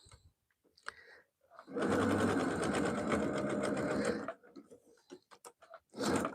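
A sewing machine stitches fabric in a steady, fast mechanical whir for a couple of seconds, then stops, with light handling clicks and a brief second burst of stitching at the end.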